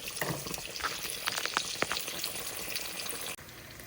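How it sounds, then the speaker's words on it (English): Rice bubbling in a pot on the stove gives a steady, close sizzling hiss, with a few sharper pops and clinks in the middle before the sound cuts off abruptly near the end. "our rice is boiling, so we're going to turn it down to a simmer"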